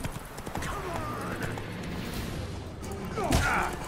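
Horses in The Witcher 3 video game clop and gallop during horse-to-horse combat, with a whinny near the end. The game sounds play at moderate volume with a scuffling background.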